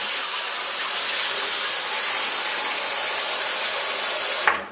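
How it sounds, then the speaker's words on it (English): Hot tap water pours steadily into a bathroom sink, a continuous broadband hiss at close range that runs unbroken for several seconds before cutting off abruptly at the end. "I'm going to go ahead and fill up my sink here with some hot tap water."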